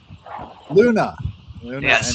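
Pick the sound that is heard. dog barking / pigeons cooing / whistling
dog barking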